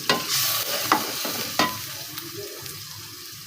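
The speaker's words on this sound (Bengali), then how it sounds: "মরিচ পেঁয়াজ এখন কষাতেছি" Chili and onion frying and being stirred for egg bhuna, a steady close sizzle broken by several sharp scraping strokes of the spoon in the pan, with no voices.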